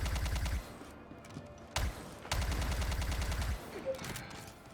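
Rapid bursts of automatic weapon fire in the video game Star Citizen, played during a legal combat delivery mission: two long rattling volleys separated by a short pause and a sharp single report, fairly loud and with no talk over them.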